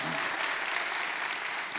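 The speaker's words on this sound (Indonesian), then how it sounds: "Tepuk tangan buat Diko sekalian." A brief burst of audience applause at a talk show, dense and moderately faint clapping lasting under two seconds.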